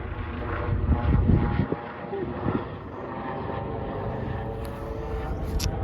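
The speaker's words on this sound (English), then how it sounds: "Sorry, there's a helicopter if you can hear that." A helicopter flying overhead of a vegetable garden, its low, rumbling engine drone filling the background, steady and fairly loud, with some brief bumps and knocks near the start.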